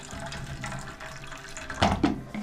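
Water poured into a frozen animal drinking trough, a steady running splash with a couple of louder gushes near the end, close and moderately loud.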